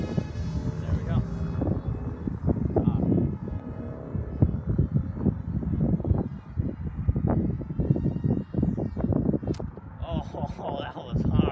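A model airplane takes off into the wind, its small engine buzzing under heavy wind buffeting on the microphone, with someone talking over it and a higher whine near the end.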